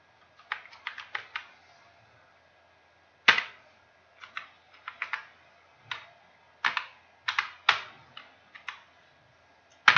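Someone types on a computer keyboard, entering menu card text in MS Word: quick bursts of crisp key clicks, alone and close, with short pauses between groups of keystrokes.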